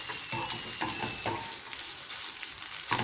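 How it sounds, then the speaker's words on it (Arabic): Canned tomatoes frying in a pan, a steady bright sizzle with intermittent stirring scrapes and crackles throughout, close and continuous with no voices. "انا نحب الطوماطيش مصبره، نحب نقليها"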